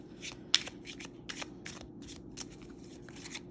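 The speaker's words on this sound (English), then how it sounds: "I can riffle shuffle this." A small Celtic Lenormand card deck is riffle shuffled in a quick burst of crisp, papery flutters, close and fairly quiet, with a faint hum underneath.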